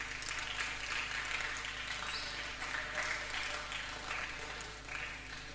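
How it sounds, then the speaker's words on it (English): A teen Sunday school audience claps, producing faint, scattered applause that holds steady for several seconds, then thins out toward the end. "Clap for me."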